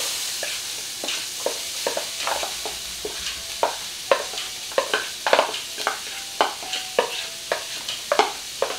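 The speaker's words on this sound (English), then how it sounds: "Then we'll add onions." Onions go into a hot pan for a mixed vegetable curry, frying with a steady sizzle while a utensil scrapes and stirs in a regular rhythm of sharp strokes, close up.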